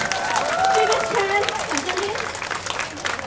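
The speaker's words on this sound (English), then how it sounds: "A round of applause to陈璧沁." Audience applause at a Hollywood Road performance, a steady wash of clapping with crowd noise. It continues throughout while a voice speaks over it.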